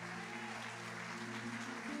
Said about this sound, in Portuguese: pode aplaudir o Senhor, que Ele merece